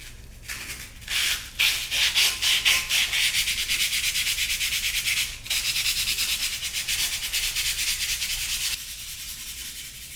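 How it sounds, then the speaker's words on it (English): Steady rhythmic rubbing and scraping of wet sanding a drilled hole in glass, close and fairly loud, with brief pauses between strokes, no voices. "wet sand the hole to get a super smooth opening"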